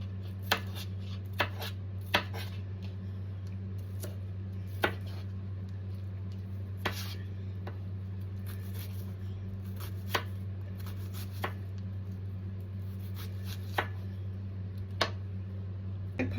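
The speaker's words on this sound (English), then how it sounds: "I just take these and cut them into tiny even pieces." Knife chopping onions into tiny even pieces on a board, faint scattered taps at an irregular slow pace over a steady low hum.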